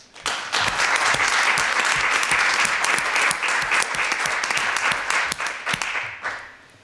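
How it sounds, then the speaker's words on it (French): An audience applauds the finalists of an ethics speech contest, loud sustained clapping from many hands that swells quickly, holds steady, then fades away at the end. "Vous pouvez les applaudir."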